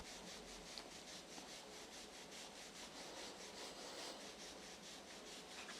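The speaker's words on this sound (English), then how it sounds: "I'm just going to rub up inside the thighs" Hands rub up the inside of a person's thighs during an applied kinesiology session, giving a very faint, steady brushing friction with no talking.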